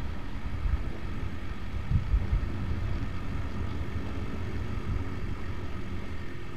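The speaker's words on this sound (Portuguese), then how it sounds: "como é que tá o vento, ventando com força" Strong wind buffets a helmet-mounted microphone on a Shineray 50cc motorcycle while riding, a continuous low, rumbling roar with occasional louder gusts and no talking.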